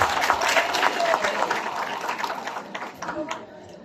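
Applause from a crowd at a memorial service in Mathebethu, a dense burst of clapping that thins and fades toward the end, with voices talking over it.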